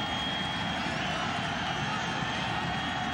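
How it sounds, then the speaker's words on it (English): Stadium crowd at Alumni Stadium during a college football game, a steady broad roar of cheering spectators filling the whole stretch at constant level, with no clear voices standing out. "the crowd here at Alumni Stadium is having a ball right now"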